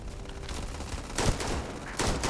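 Gunfire in the space game Starfield, with a few sharp, loud shots cracking out over a busy background near the end of a short stretch, no talk.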